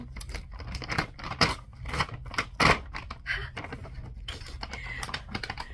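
Paper and plastic wrapping of a birthday gift being torn, crinkled and pulled open indoors, producing a rapid string of sharp rustles and rips at close range.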